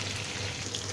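Chicken pieces fry in hot oil with a dense, even bubbling sizzle, close and continuous through the whole moment.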